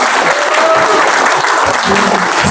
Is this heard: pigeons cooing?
no